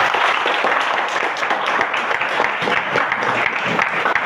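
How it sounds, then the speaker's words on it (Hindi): Students in a classroom clap together in a dense burst of applause, loud and close, lasting a few seconds without a break. "आया तो बजाओ तालियां।"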